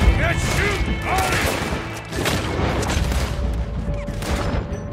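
Dense gunfire rings out during a bank shootout in the video game Red Dead Redemption 2, with rapid overlapping shots and booming reports filling the whole stretch, loud and continuous.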